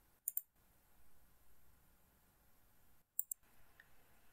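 Two pairs of quick, faint mouse clicks in SAP2000 structural engineering software on a computer, spaced about three seconds apart against near silence.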